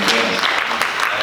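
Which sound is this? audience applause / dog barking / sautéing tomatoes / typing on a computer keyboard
audience applause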